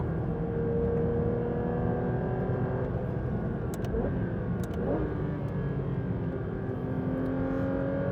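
A Porsche 992 GT3 RS on a tyre-warming lap gives a steady, close engine drone with a few gear changes, the pitch rising and falling over a constant road roar.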